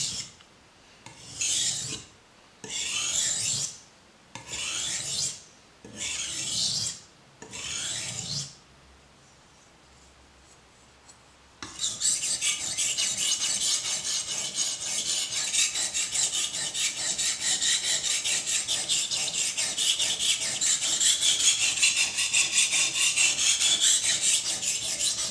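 A knife edge drawn across a sharpening surface to raise a burr: five slow, separate rasping strokes, a short quiet pause, then a long steady scraping grind that runs loud and close to the end.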